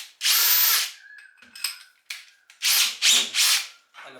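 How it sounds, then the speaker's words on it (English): A cordless drill fitted with a burr bit grinds rust off metal in several loud close bursts, one long whine followed by short blips and three quick strong runs near the end. "So I'll use that one in a drill, like a cordless drill."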